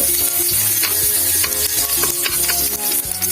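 Onion sautéing in a hot pan for Peruvian lomo saltado, a steady close sizzle with repeated scraping stirs of a utensil across the pan.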